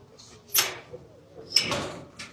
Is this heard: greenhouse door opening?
yes